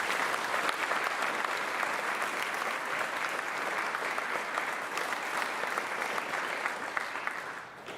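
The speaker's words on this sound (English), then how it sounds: "So let's provide one final round of applause to the soon-to-be graduates of the class of 2021." An audience at a high school senior scholarship ceremony gives a sustained round of applause for the graduating class, dense steady clapping that fills the room and tapers slightly at the end.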